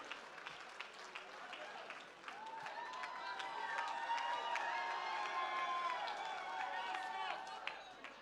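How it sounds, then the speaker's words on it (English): An audience at an evening club awards night for Aughnamullen GFC applauds as chairperson Paddy Markey comes on stage, the clapping and cheering swelling into a steady, full-room roar after a couple of seconds. "Round of applause for Paddy, everybody."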